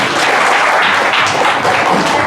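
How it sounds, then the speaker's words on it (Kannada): Audience clapping at a business and entrepreneurship workshop: a dense, steady patter of many hands that fills the whole short stretch at a fairly loud, even level, with no voices. "ಹೊಡೆದು ಚಪ್ಪಾಳೆ."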